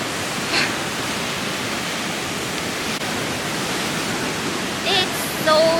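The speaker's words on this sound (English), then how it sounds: "The river again." A river rushes below a suspension bridge in Beni, Nepal, a steady broadband roar of water that fills the whole clip at even loudness, with a few faint higher sounds near the end.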